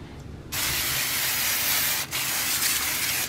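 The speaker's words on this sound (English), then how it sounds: "I'm gonna spray the top of them with my canola oil" An aerosol can of canola oil sprays in a steady hiss for about a second and a half, pauses briefly, then sprays again in a second burst.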